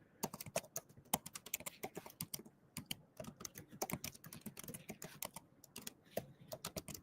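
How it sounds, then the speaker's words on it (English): Rapid clicking of a computer keyboard being typed on, close up, in quick uneven bursts with brief pauses. "The typing sounds makes it like suspenseful"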